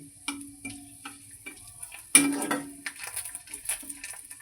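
A dried red chilli dropped into hot oil with panch phoron in a pan, while cooking mourala fish with bitter gourd and potato: light ticking spatters first, then a sudden louder sizzling burst that keeps crackling close by.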